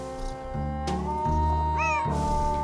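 Cat meowing in the video game Nancy Drew: Secret of the Old Clock, a clear, close, drawn-out meow with rising and falling pitch over soft background music.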